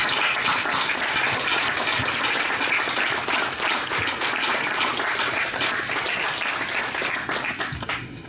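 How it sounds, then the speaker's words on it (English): A crowd at a submarine force change of command ceremony gives a loud, sustained round of applause, dense and even from start to finish before it starts to thin at the very end. "Let's all give them a round of applause"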